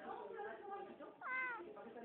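A cat gives a drawn-out meow near the end, close and fairly clear, after a stretch of a person speaking to it.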